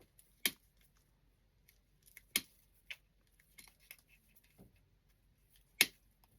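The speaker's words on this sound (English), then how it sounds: "I'm going to cut up one more stem" Several sharp, isolated snips of scissors cutting plant stems for a winter wreath, spaced irregularly with quiet pauses between, close and fairly faint.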